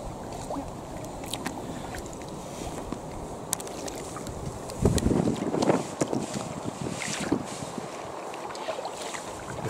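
Wind buffets the microphone while kayaking on a canal, a steady rough rumble with sporadic gusts and a louder burst midway, water and paddle noises faint beneath, no talking.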